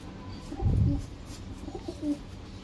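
Pigeons kept for sale in Odisha coo in low, soft throaty bursts, one fuller call early and fainter ones after, close by with no talking.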